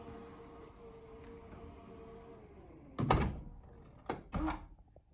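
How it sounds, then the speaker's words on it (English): A power tailgate on a VW Tiguan 2.0 TDI R-Line closes with a soft motor whir, then a couple of distinct latching thunks, faint and close in a quiet setting. "Electronic tailgate as well."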